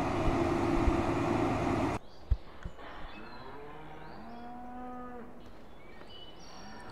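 Cattle mooing in a farming video game: after a burst of loud noise cuts off, several drawn-out moos follow, overlapping and rising and falling, moderately close and unaccompanied by talk.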